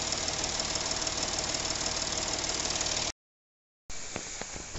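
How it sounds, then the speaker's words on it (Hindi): Porsche Cayenne 3.0L TDI diesel engine misfiring from a bad fuel injector, a loud steady rough knocking run heard up close in the engine bay, briefly cut to silence before resuming with uneven thumps. "गाड़ी ऐसा हो रहा है, डर डर डर डर कर रहा है।"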